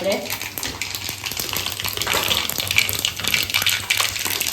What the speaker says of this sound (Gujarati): જીરું પણ સારી રીતે ચટકી ગયું છે